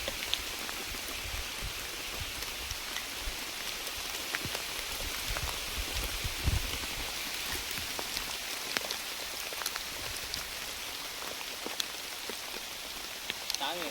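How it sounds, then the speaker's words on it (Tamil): Steady rain falling outdoors in a village during open-air cooking, a dense continuous patter of drops on surfaces throughout, fairly close and even in level, with faint voices in the background. "திருப்பி மழை வந்துடுச்சுங்க."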